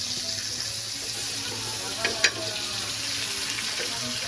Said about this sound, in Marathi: सोबत तेल टाकला, लसूण टाकलं